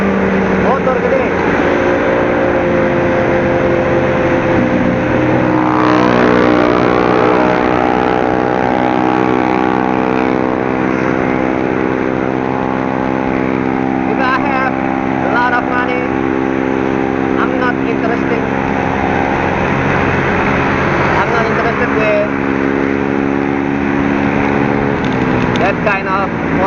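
A second-hand Repsol Honda Blade 110cc motorbike rides through West Jakarta traffic, its small engine droning steadily and loudly with shifting pitch as it speeds up and slows, while a voice talks over it at times.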